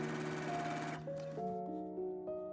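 Sewing machine stitching a folded skirt hem, a close whirring drone with tonal hum that cuts off near one second, then fainter intermittent motor whines and short runs.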